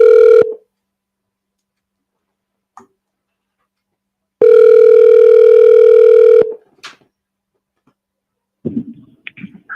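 A telephone line being tested before a call: a short burst of steady dial tone, then a longer two-second stretch of loud continuous tone, followed by faint clicks and brief dialing noises near the end.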